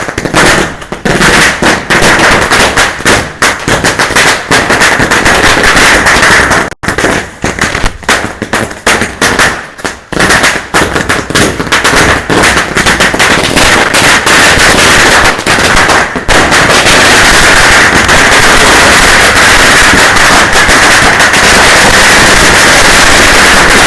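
Diwali firecrackers burst in rapid, dense crackling volleys, very loud and close, with brief gaps, then a long unbroken roar of a string of crackers going off.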